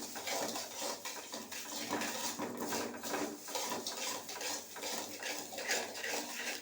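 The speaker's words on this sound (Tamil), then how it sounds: "சீரகம் 50 கிராம் அளவு போட்டுக்கிறேன். எல்லாமே 50 கிராம் தாங்க. நல்லா போட்டு நல்லா வறுத்துக்கணுங்க." Fifty grams of cumin seeds are dry-roasted in a pan for homemade chilli powder, heard as a quiet, continuous scraping and rustling while the seeds are stirred, with no one talking.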